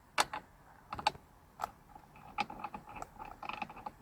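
A 17mm bolt for the steering wheel of a BMW Z4 E89 is threaded on by hand, giving sparse light clicks and small metallic taps, close and quiet, with no talking.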